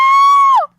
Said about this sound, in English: I try not to scream into the mic